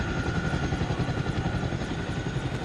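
Helicopter in the military video game Arma Reforger, a steady close rotor thump and engine roar running loud and unbroken throughout.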